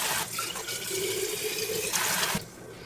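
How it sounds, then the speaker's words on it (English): Tap water streams steadily into a pot for loaded potato soup, a close, continuous rushing pour that cuts off abruptly near the end. "I don't quite have enough broth to fill this one, so I am going to use water."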